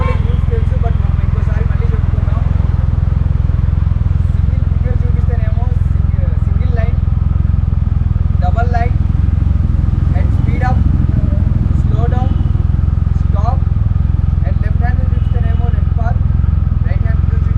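Motorcycles on a group weekend ride, a Triumph Rocket 2300cc and a Ducati among them, give a loud, constant engine rumble with strong wind buffeting, while someone talks over the noise throughout.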